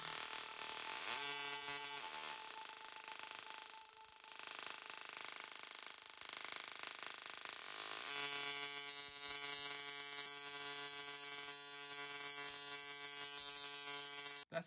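Small touchable Bluetooth musical Tesla coil playing, a harsh buzzing electrical tone that steps through sustained notes, steady and fairly loud, with no talking.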